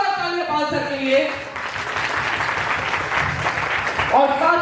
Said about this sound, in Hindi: तो एक बार जोरदार तालियां पाल सर के लिए।